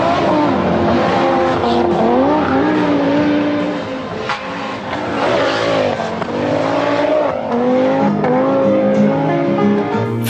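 An Audi five-cylinder rally car engine at full effort, loud and close, its pitch climbing and dropping through gear changes and punctuated by brief tire squeal.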